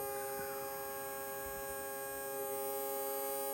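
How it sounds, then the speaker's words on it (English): A vintage Tamiya Torque Tuned RC motor runs steadily on bench power at about 3 volts, giving a constant electric hum and whine with fixed tones and no breaks, close and alone with no voices. "we got our torque tune hooked up. Let's hit the power button and see what happens."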